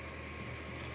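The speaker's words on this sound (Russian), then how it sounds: "Заработали вентиляторы." Fans of a Horynize EF-450 heat recovery ventilator running up, a steady low mechanical whir and airy hum that fills the whole second at an even, moderate level with no speech over it.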